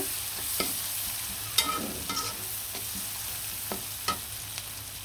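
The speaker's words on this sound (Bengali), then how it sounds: "ভালো করে পেঁয়াজটা কিন্তু ভাজা ভাজা করে নিব লাল লাল করে" Chopped onions fry in oil with bay leaf and garam masala for a chicken leg piece dish. A soft, steady sizzle runs under sharp, intermittent stirring scrapes and clinks.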